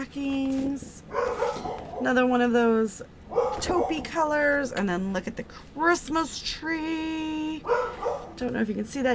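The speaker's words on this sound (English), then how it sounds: "You can hear my dog bark in the background" A pet dog barks in the background of a home room decorated with a Christmas tree, its sharp yips and barks scattered through steady nearby talking.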